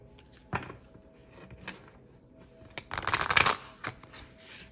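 A deck of tarot cards is shuffled close by: a few soft isolated card slaps, then a dense riffling burst, then a final flick, quiet overall and with no talking.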